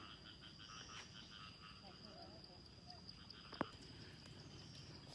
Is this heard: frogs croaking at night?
yes